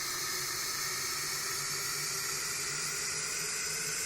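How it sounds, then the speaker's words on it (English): A steady, broadband white-noise riser hiss with EQ held at an even level throughout, bright and airy with a smeared, reverberant tail and no voices. "Which is just a white noise with some EQ, effector, and reverb."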